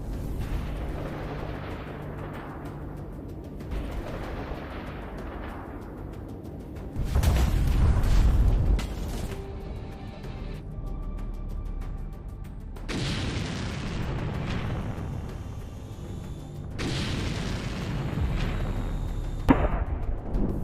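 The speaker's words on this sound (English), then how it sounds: "The stalled Russian columns become easy prey for artillery strikes, turning the area into chaos." Artillery strikes pounding stalled Russian armored columns during a major offensive: repeated deep booms and sharp blasts at irregular intervals, some distant and rumbling, others closer and louder, over constant battlefield noise.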